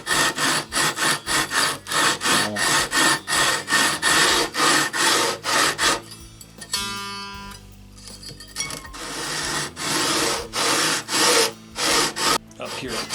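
Rhythmic strokes of 120 grit sandpaper rubbing across the fretboard of a 1991 PRS Custom 24 guitar, steady back-and-forth scraping with a brief pause midway before the strokes resume, close and loud.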